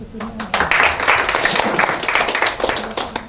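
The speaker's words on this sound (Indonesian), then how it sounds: "Kurang semangat tepuk tangannya." Applause from a crowd at an Indonesian party congress in Jakarta, a steady mass of clapping held for several seconds, loud and close, with voices mixed into it.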